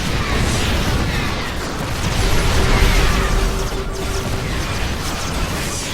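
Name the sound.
siege tank fire in StarCraft video game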